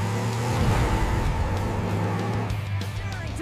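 Cartoon monster truck Blaze revving loudly and continuously as it speeds up to jump a rust moat, a steady engine roar that tapers slightly near the end.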